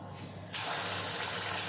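Carrot malpua batter is ladled into hot oil and starts frying with a sudden, loud, steady sizzle that rises abruptly and keeps hissing close by.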